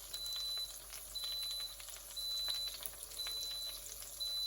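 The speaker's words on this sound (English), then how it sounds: "Instant Pot beeping over there." An Instant Pot beeps faintly at a steady, repeating interval, distant beneath a hissing, sizzling background of cooking.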